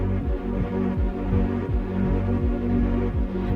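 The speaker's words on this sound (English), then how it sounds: "This is the sound of the bus when it's stationary." Designed warning sound of a stationary city bus, a steady low churning, engine-like throb that pulses in a regular rhythm and carries on without a break.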